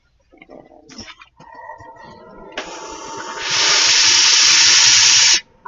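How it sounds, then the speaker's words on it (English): A steam iron on fabric at a sewing table lets out a loud, steady burst of hissing steam that lasts about two seconds and then cuts off abruptly, after quieter handling noises and clicks. "Go over it with the iron really quick."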